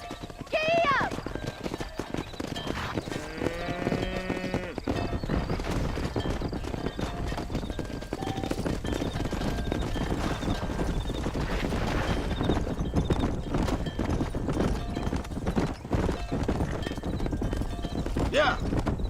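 A horse gallops in Red Dead Redemption, with rapid, continuous clip-clop hoofbeats running loud and close throughout amid busy game ambience, plus a brief whinny near the start.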